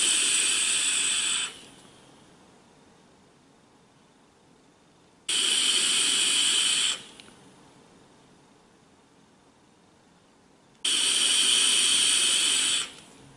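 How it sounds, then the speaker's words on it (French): A Smoktech Stick AIO e-cigarette, filled with high vegetable glycerine liquid, hisses loudly in three long steady bursts of a second or two each, separated by quiet gaps. "On le voit, ça fonctionne très bien, on a une grosse production de vapeur."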